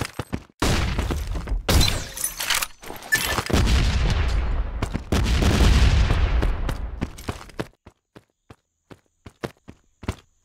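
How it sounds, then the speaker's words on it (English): A flashbang grenade goes off in a first-person shooter match on the Facility map with a sharp bang and a long harsh ringing wash that cuts off abruptly, followed by a string of quick light footsteps. "Flashbang!"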